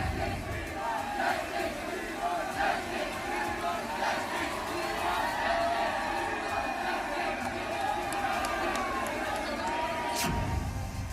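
An angry crowd protests in Badlapur, Maharashtra, a continuous roar of shouting and chanting voices with rhythmic cries rising and falling, moderately loud, with a sharp bang near the end.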